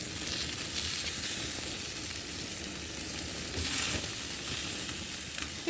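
Chicken sizzling and frying in its own rendered fat over a fire, a steady broadband crackle and hiss that holds close and even throughout, with a brief swell near the end.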